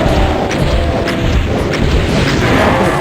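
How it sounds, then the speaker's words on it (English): Rocket explosions in the first-person shooter Classic DOOM: a loud, continuous rumbling roar of overlapping blasts with faint periodic thuds, dense and close throughout. "I'm going to start with the rockets."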